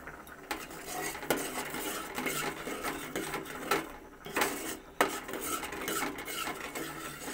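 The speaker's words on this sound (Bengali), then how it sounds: "চিনিটা দিয়ে আবারও নাড়িয়ে নেব।" A spoon works through thickened milk and sugar in a pan for carrot sweets, making repeated scraping strokes against the metal in an uneven rhythm, close and fairly loud with no talk.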